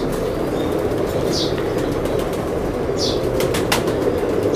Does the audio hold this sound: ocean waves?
no